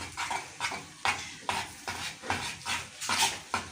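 Rhythmic scraping of a spoon stirring flour and ghee in a pot for béchamel, repeated strokes about every half second, close and fairly loud, no talking.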